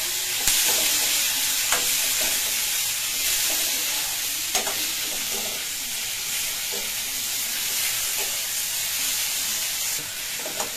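Onion and tomato cook down into a thick gravy paste in a pan, with a steady close sizzle and a bubbling hiss broken by occasional light scrapes of a stirring spoon.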